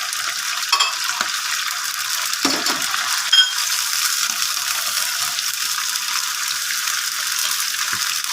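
Chicken and spices for a shahi chicken aloo gosht fry in a pan, giving off a constant close, bright sizzle broken by occasional scraping stirs and clicks of a utensil, with no talking.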